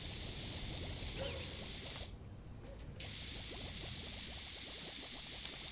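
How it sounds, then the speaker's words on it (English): Continuous bubbling, fizzing spray from a pressure washer cleaning a grimy surface in the video game PowerWash Simulator, a dense steady hiss with a brief dip in the middle, no voices. "I love the bubble noise. It's so nice, the bubble noise."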